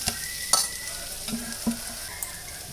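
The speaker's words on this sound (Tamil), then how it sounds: "இந்த தேங்காவை சேர்த்து கொஞ்சம் நல்லா நம்ம வதக்கிக்கலாம்" Grated coconut sautés slowly in a pan under a soft, continuous sizzle, with a few sharp clicks and scrapes from the spoon against the pan at irregular intervals.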